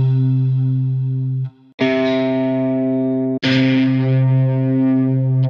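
Electric Mint electric instrument preset from Kontakt 8 playing a sustained chord, then two more struck chords with bright, effected tone and distortion, loud and alone with no talking.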